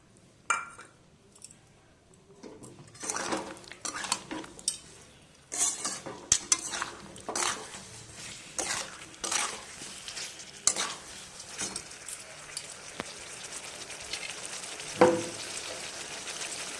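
Spiced masala paste with potato and eggplant frying in a pan for a Bengali hilsa fish curry: repeated close spatula scrapes and clinks over a soft sizzle, with no talking.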